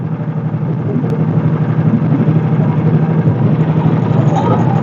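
An engine idling smoothly nearby outdoors at a fishing spot, a steady low rumble with a soft even pulse and no talking.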